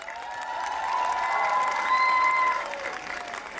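A crowd applauds steadily at an outdoor Christmas tree lighting in Masis, the clapping swelling in the middle and easing off at the end, with faint tonal sounds running beneath.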